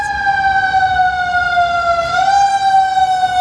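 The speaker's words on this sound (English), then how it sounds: "Oh, it's a fire engine." A loud wailing fire engine siren with a steady tone that dips and rises slightly, sounding close by as the truck goes past.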